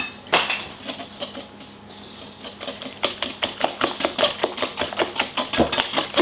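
A whisk or spoon beats sugar into chocolate cake batter in a bowl, rapid rhythmic clinking and scraping strokes that grow steady and regular, close and fairly loud.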